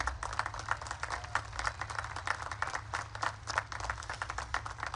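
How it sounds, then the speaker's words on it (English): Crowd applause for faculty and staff at a naval academy event, dense steady clapping from many hands, fairly distant and continuous throughout. "let's give a big round of applause to the entire faculty and staff that made this"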